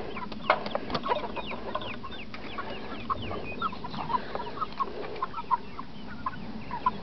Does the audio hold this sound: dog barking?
no